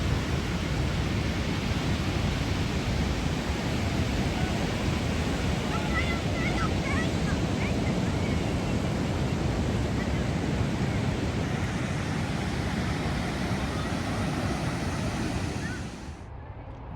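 Ocean surf rolls onto a Pacific coast beach near Cannon Beach, a broad, constant roar of waves mixed with wind buffeting the microphone, holding steady before dropping off abruptly at the very end.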